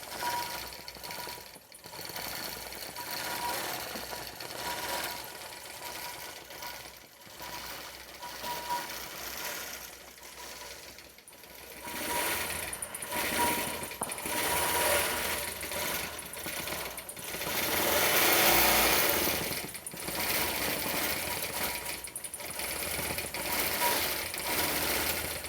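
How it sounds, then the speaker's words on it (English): An embroidery sewing machine stitches a pattern with a continuous mechanical rattle and clicking, steady and fairly close, with the hum swelling louder partway through as it sews across the design. "it's taking its little stitches here. It's going to start and sew across here."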